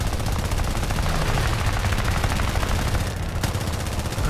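Aircraft machine guns fire in War Thunder air arcade combat, a dense, continuous rattling burst that runs loud and nearly unbroken, pausing only briefly near the end before resuming, with no talking.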